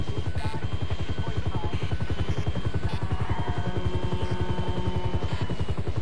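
Police helicopter in the video game GTA V, a loud, close rotor thumping in a fast, even chop that runs the whole way through, with a faint whine of the engine above it.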